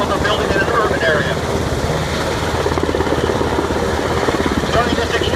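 A helicopter hovers during a special operations rope extraction over a barge, its loud, steady rotor chop thumping continuously beneath heavy wind rush.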